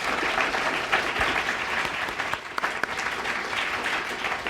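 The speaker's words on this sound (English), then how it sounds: "I wanted to give her a round of applause for loaning me this fiddle." A round of applause from an audience at a college performance, thick overlapping clapping with a few sharper individual claps, steady and fairly close for a few seconds.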